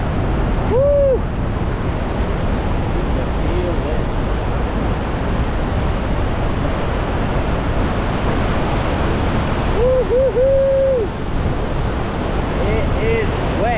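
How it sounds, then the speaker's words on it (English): Strong wind and spray blasting off Iguazu Falls on the Brazil side during a boat ride, a dense continuous roar of wind noise and rushing water, with brief shouts of people breaking through a couple of times. "the wind coming off the falls is strong"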